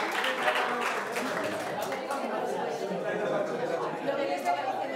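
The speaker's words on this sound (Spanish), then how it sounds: "Un aplauso para él." An audience breaks into sustained clapping, mixed with crowd chatter and voices, at a steady moderate volume.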